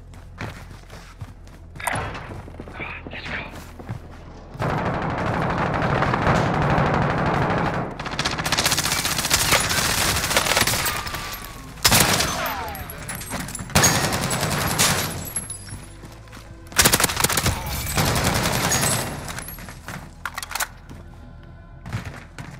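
Gunfire crackles through a Call of Duty: Warzone match, with long sustained machine-gun bursts and sharp separate shots that come and go over about twenty seconds, loud and close, mixed with thuds and movement.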